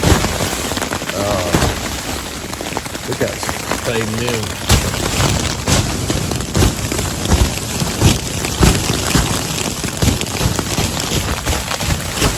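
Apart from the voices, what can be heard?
thunderstorm rain on a tent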